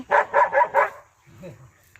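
A dog gives four quick, close barks in an even rhythm, followed by a short, softer whine.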